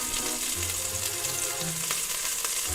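Onion fries in a pan with a steady, hissing sizzle, close and soft, and no voices are heard.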